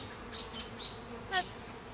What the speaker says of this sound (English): there's just a lot of little young bees